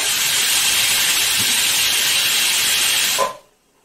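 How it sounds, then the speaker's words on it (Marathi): Steam shrieks out of a pressure cooker's whistle while potatoes cook, a loud, steady hiss that runs for about three seconds and then cuts off sharply into near silence. "इथं बघू शकता कुकरची शिट्टी झालेली आहे आपल्या।"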